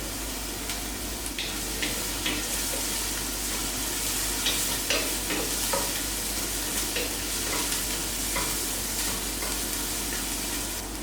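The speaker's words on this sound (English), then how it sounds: "Frying this, it gives you the nice flavor to the dish" Chopped celery and chili sizzle steadily in a hot pan while being stirred. A constant frying hiss runs throughout, with scattered scraping and clicking stir strokes, and no talk.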